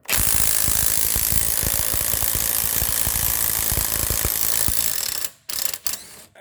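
A half-inch impact wrench hammers loudly and continuously for several seconds, close up, during front brake caliper work on a Mercedes-Benz C230 Kompressor, then cuts out with a couple of short final bursts.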